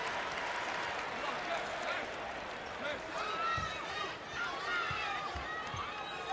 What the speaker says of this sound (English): Big Illinois partisan crowd here.